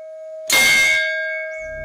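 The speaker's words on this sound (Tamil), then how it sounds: "கோயில் மணி சத்தமா அடிக்க தொடங்குச்சு" A temple bell at a Kerala shrine in Karuvannur is struck once loudly, its bright metallic ring swelling over a faint steady tone and then slowly fading away.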